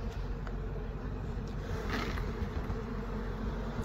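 Steady, dense buzzing of many bees close by during removal of a hive from a chimney, continuous and unbroken for the whole stretch with no talking.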